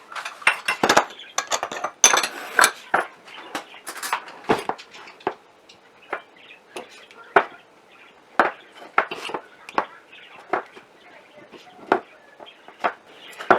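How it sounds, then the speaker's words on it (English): Lard scooped into a measuring cup for a grandmother's pie crust, with repeated light clinks and taps of metal utensils against the cup and dishes, close and intermittent, spread steadily through the scene. "we are going to measure out 2/3 cup of lard"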